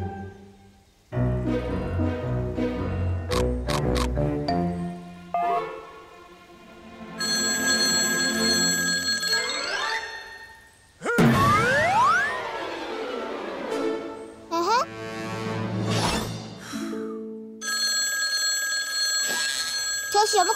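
Cartoon mobile phone ringing in repeated electronic bursts between pauses, interrupted by squeaky sliding cartoon sound effects; loud and close.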